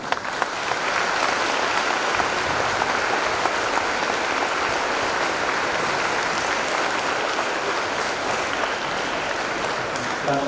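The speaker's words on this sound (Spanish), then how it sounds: "Le damos un aplauso a los padrinos." Applause for the godparents fills a church during a sacrament ceremony, a dense, loud, sustained clapping from a congregation lasting about ten seconds without letting up.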